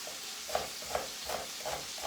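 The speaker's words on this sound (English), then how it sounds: "Alright, I will only use half of the onion. This one, just a simple stir fry." Half an onion stir-frying in a pan for a quick spinach dish, a steady soft sizzle with regular stirring scrapes about every half second, close and clear with no talk.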